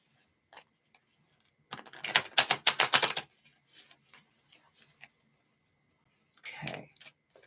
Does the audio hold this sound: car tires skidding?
no